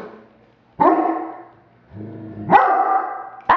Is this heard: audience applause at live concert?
no